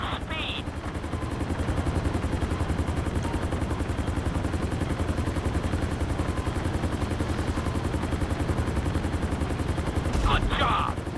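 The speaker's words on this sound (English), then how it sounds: "we'll see how well you handle the chopper" A helicopter in Grand Theft Auto V flight school runs throughout as a steady, dense rotor thrum, loud and continuous, with brief sharper bursts near the start and end.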